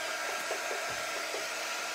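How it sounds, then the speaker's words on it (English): A small quick-dry heat tool blows air over wet chalk paste, a steady close whirring hum with a faint even hiss, running without pause and with no talking. "This is our quick dry tool. It doesn't get very hot."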